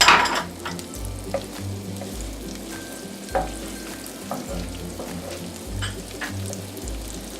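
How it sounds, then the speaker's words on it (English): Onions and garlic frying in melted butter for a shrimp stir fry, a steady close sizzle broken by clinks and scrapes of a utensil stirring the pan, with low thuds beneath. "we're going to be melting our butter. And then we're going to be adding in our onions"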